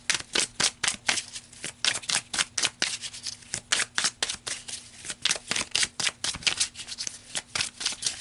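Tarot cards being shuffled close up, a quick run of crisp riffling flutters and slaps repeating in steady bursts, with no talking.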